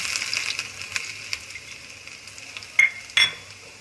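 Soft sizzling of garlic frying in a pan for baingan bharta, with light scraping and stirring, punctuated by a couple of sharper metallic clinks near the end.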